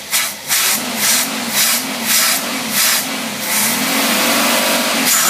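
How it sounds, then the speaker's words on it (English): An engine fitted with a Tyler single-barrel carburetor runs unloaded, a loud steady mid-pitched drone that pulses in a regular slow rhythm beneath a hissing wash. "First, we're going to test with no load."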